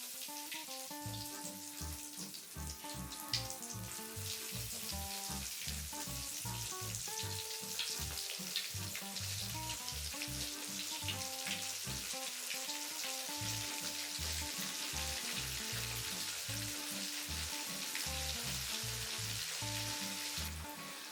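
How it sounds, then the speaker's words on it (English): Portobello mushrooms fry in hot grease in a wok, a continuous crackling sizzle lasting throughout at low level, with steady background music underneath. "So I'm gonna go directly into my hot grease with my portobellos."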